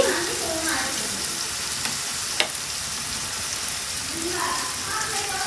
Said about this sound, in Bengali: তারপর ভালোভাবে নেড়ে নিচ্ছি এগুলাকে